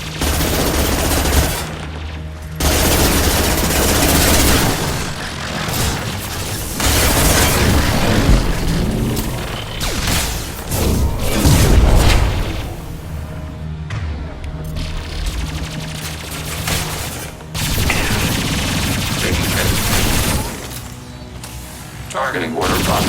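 A hacked turret fires in Mass Effect 2, with loud sustained bursts of automatic gunfire and booming impacts that continue through most of the stretch, alongside game voices.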